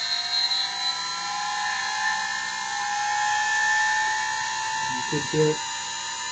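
Muller motor driven by an outrunner spins steadily at around 3,000 RPM, a sustained high whine with steady tonal bands, ending with a short voice under the hum.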